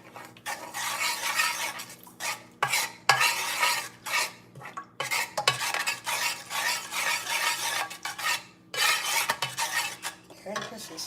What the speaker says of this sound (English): We're gonna stir this.